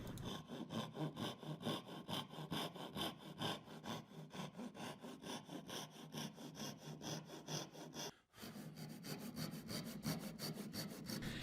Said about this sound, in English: To cut these down, I like to use the Japanese saws. This is a dozuki saw, which is a tenon saw.